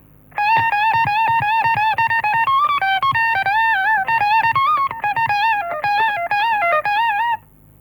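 An electric guitar plays a fast blues-scale passage from the first half of a guitar piece. The tone is distorted and the flurry of picked notes runs with bends, played loudly and alone for about seven seconds.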